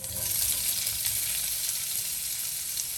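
Chopped onion crackles and sizzles continuously in hot olive oil in a pan, a close, even frying hiss with no speech.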